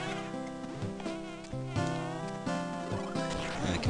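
Bee buzzing from the video game Wario Land 4, set in a busy, harmonically dense layer of game music and sound effects that runs steadily through the whole stretch with no break.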